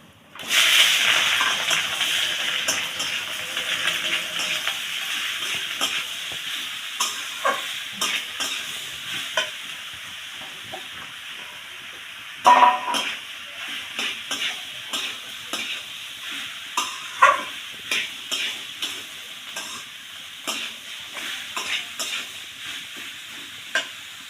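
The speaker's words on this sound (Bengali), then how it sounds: "এবার আমি লাউটা দিয়ে দেব" Chopped bottle gourd is dropped into hot tempering in a pan, setting off a loud burst of hissing sizzle that gradually settles, followed by repeated clinks and scrapes of stirring, close by with no talking.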